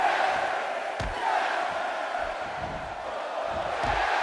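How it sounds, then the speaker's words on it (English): Arena crowd in the WWE 2K16 wrestling game, Kevin Owens versus Bray Wyatt, roars in a steady, loud wall of cheering and shouting that holds for the full stretch, with a few sharp thuds breaking through. "I have never, in all my years in this business, seen a crowd react to a figure like they do Daniel Bryan"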